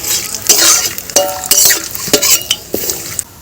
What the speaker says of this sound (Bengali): তেলের উপরে আমি গোটা গরম মশলা দিয়ে দিচ্ছি, দারচিনি, এলাচ আর লবঙ্গ